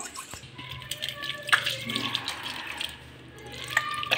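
Tap water running over freshly cleaned household items as they are rinsed, a close, uneven splashing with small clinks, heard under a voice talking.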